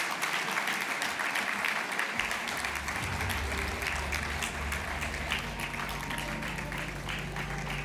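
A crowd at a New Year greetings ceremony applauding: sustained dense clapping from many people, steady and fairly loud, with a low hum and faint murmuring underneath.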